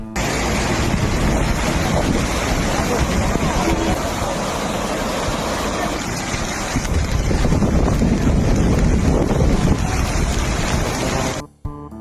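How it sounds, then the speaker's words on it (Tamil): Rushing floodwater pouring over a highway near Villupuram in heavy flooding, a loud, continuous roar of churning water mixed with wind buffeting, steady for about eleven seconds before cutting off abruptly. "ஏதோ டேம்ல தண்ணி திறந்து விட்ட மாதிரி இருக்கு"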